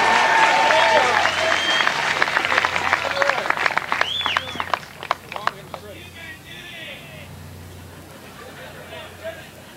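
A crowd at a golf long drive event in Mesquite, Nevada applauds and cheers, a burst of clapping and shouts that fades over several seconds, with a voice talking over it.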